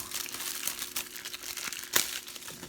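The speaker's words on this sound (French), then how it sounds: "Donc là, je vais le déballer" Plastic film wrapping on a 40th anniversary Urban Cowboy disc case crinkles and crackles continuously, close and fairly loud, with one sharper tear-like snap near the end.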